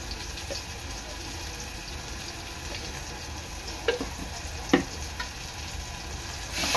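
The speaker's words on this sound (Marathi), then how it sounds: "मसाला चांगला तेलात शिजवून घ्यायचा आहे।" Agri Koli masala with turmeric cooking in hot oil for a dry Bombay duck and potato curry, a steady broadband sizzle with a few sharp stirring clinks and scrapes near the end.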